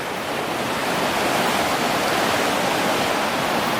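A river running very high at an Irish gold-prospecting spot makes a dense, steady rushing roar of flowing water, loud and continuous with no voices over it.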